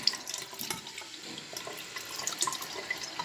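Water runs steadily from a sink tap for handwashing, a close, continuous splashing stream with small drip-like patters throughout.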